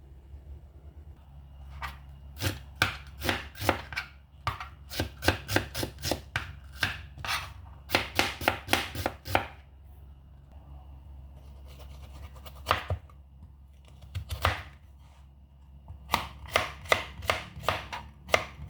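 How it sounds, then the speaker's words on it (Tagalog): Knife chopping carrots on a board for tomato rice, sharp rapid taps in quick bursts of several strikes separated by short pauses, close and clear in an otherwise quiet kitchen. "naghiwa po tayo ngayon ng carrots para sa ating 1 cup of tomato rice"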